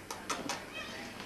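A few short, soft meows from a cat nearby in a kitchen, with faint background noise and no talking.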